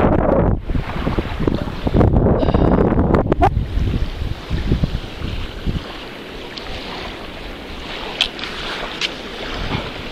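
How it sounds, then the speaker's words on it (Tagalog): Steady coastal wind buffets the microphone in a continuous broadband rush, gusting louder early on and easing slightly later, with no voices. "Mahangin."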